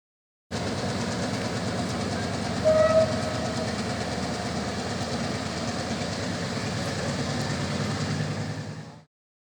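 A passenger train near Ella, Sri Lanka, rumbles steadily past, wheels clattering on the rails with a continuous loud roar that fades out at the end.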